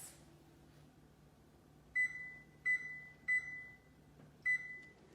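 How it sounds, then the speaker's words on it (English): An oven timer being set gives four short, bright beeps spaced roughly evenly apart over a quiet room with a faint low hum. "we're gonna set the timer for 10 minutes"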